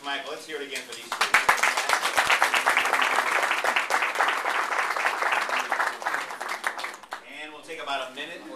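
Audience applause at a club speech meeting, dense steady clapping swelling after a second and holding for several seconds before tapering off, with some voices mixed in.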